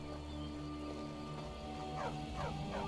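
Dog barking in a sleepy Skyrim village with children running about; a few faint, distant barks and yips arrive late over a steady, soft ambient drone.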